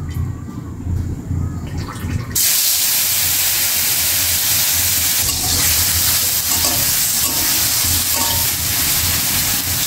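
Fish marinated with turmeric, chili and salt goes into hot oil in a heated karai, erupting into a loud, steady, close sizzle that carries on without pause.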